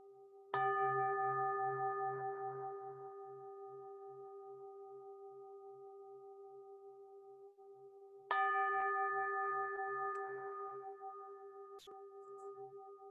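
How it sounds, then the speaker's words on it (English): A hammered metal Buddhist bell struck twice, each a bright clear strike followed by a long ringing, wavering decay with steady overtones, the second strike arriving after several seconds of fading resonance in a quiet room. "May the song of this hammered metal Buddhist bell awaken and summon you"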